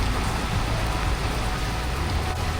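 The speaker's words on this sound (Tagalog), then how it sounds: "Lumakas na naman po ulit ang ulan" Steady, dense hiss of heavy rain pouring down at Marikina River Park, Philippines, during a flood, loud and constant throughout with no voices.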